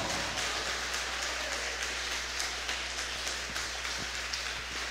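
Steady, dense applause from a church congregation during a sermon, a continuous wash of many hands clapping at moderate distance with no talk over it.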